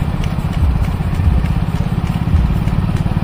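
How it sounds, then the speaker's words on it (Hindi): A tractor rolling at the head of a village religious procession gives a steady, close, chugging engine rumble with a pulsing beat, continuous throughout and with no talk over it. "आगे ट्रैक्टर चल रहा और पीछे देखो कितनी शानदार चल रहा"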